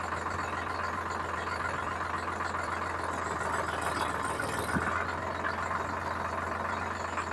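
A Sonalika DI-42 45 HP tractor diesel engine idling steadily while gears are shifted, a constant loud low rumble with a brief mechanical knock partway through.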